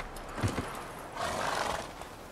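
Geralt's horse Roach in The Witcher 3 gives a short whinny after a few hoof clops, fairly quiet and close, with no talking.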